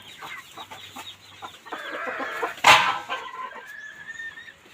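Chickens clucking and a rooster calling in a rural backyard, with short overlapping clucks and one louder, brighter burst midway, moderately close amid farmyard noise.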